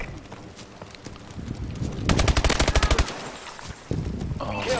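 Gunfire in the video game Call of Duty breaks out as one fast, close burst of rapid shots after a quieter stretch of game noise, followed by a sharper sound near the end.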